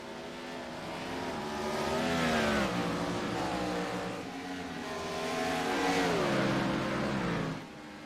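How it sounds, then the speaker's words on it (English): Race car engines roar in a racing video game at Watkins Glen International, two cars battling closely, engines rising and falling through gear changes, loud and sustained, then easing off near the end. "Mikolajczyk and Neuwirth still battling it out here between these two."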